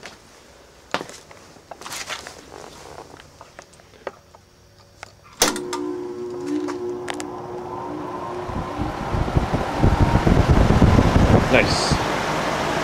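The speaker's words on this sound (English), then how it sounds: "Let's see if we can get this fan running." A Kenmore 2-ton condensing unit's condenser fan, run with the compressor disconnected, starts with a sharp click, then hums steadily and builds to a louder whooshing airflow, with scattered clicks and handling noises beforehand.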